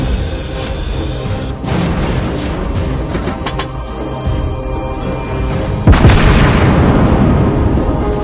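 Naval gunfire slams into a ship in World of Warships Blitz while playing the Myoko cruiser, a loud continuous roar of booms and rumbling impacts with a heavier blast near the end.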